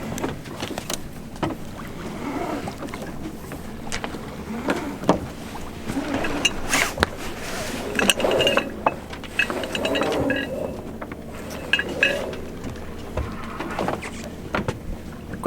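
The genoa on a small sailboat is furled by hauling the furling line, making intermittent ratcheting clicks, rope rubs and knocks over a low background hum, fairly close and quiet.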